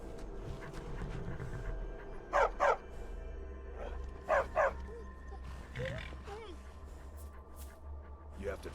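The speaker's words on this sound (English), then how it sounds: "You have to train a good war dog from a pup." A war dog in Skyrim barks in two sharp double bursts, near and loud, with panting and soft whimpers between them over a low ambient hum, while a voice speaks.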